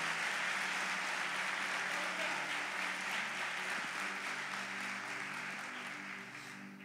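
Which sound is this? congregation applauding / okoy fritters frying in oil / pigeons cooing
congregation applauding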